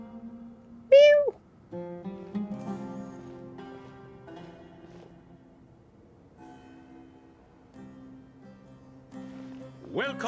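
A cat in the video game Genshin Impact gives a short, clear meow near the start and another at the end, over soft sustained background music.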